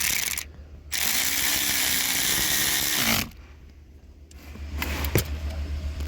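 A ratcheting tool drives screws to fasten an AC servo motor on a Lexus IS350, giving a steady buzzing run of clicks for about two seconds, then quieter mechanical handling and a sharp tap.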